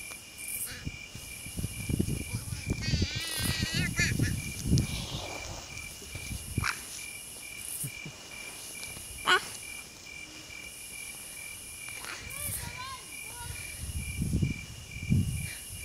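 Small frogs call at night outdoors, with a few short trilling chirps rising over a steady chorus of crickets and faint rustling, fairly quiet and with no talking.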